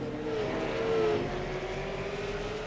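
Late model race cars roar around Langley Speedway in a steady, sustained engine drone from the middle distance, with a rising and falling whine as a car passes.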